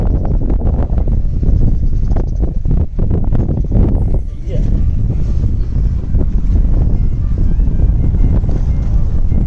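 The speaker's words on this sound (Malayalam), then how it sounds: "ഇന്ന് ഇപ്പൊ തന്നെ കേട്ടോ ഫുള്ള് കാറ്റാണ് കേട്ടോ." Strong desert wind in the Thar desert buffets the microphone with a loud, continuous roaring rush that barely lets up throughout.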